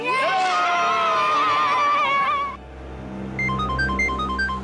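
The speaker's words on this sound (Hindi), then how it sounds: "अरे वो सीआईडी वालों को फोन आ रहा है।" An electronic ringtone of repeating beeping tones starts partway through, following noisy overlapping voices and music-like tones before it.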